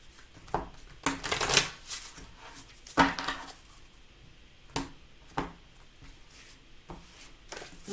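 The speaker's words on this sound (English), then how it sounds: "One more good shuffle." A deck of tarot cards is shuffled by hand indoors, with irregular soft riffling and slapping bursts. They are close and moderately quiet, and the gaps between them are hushed.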